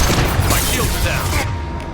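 Gunfire in Mass Effect 2 Legendary Edition, a loud dense volley of shots and blasts that thins out toward the end.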